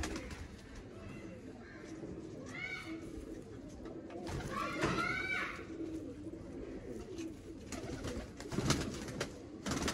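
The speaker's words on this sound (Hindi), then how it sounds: "ये आप छोटे नूर वाले कबूतर देखें" Small Noor pigeons coo in a breeder's loft, a few close, rolling coos rising over a steady background murmur.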